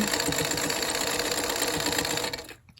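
A sewing machine with a quarter-inch foot stitches a quilt block seam at a fast, even, buzzing pace, then stops abruptly just before the end.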